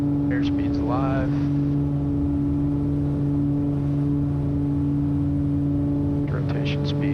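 A 1979 Beechcraft B60 Duke twin-engine plane on its takeoff roll, a loud steady engine drone with strong tonal hum heard from the cockpit, while voices and radio chatter come through now and then.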